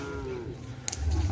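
A cow from Sampang gives a short, low moo with a falling tone, nearby, at an outdoor cattle gathering with background noise and a rumble at the end.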